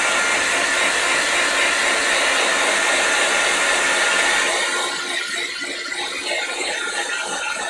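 A blow dryer blasting a stained glass piece dry, a loud, steady close-up roar of rushing air that holds throughout, its tone dipping slightly partway through.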